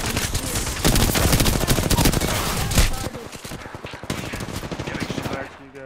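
Rapid bursts of automatic gunfire crackle loudly in an Apex Legends firefight, dense and continuous for about three seconds, then thinner sporadic shots follow with voices talking over the action.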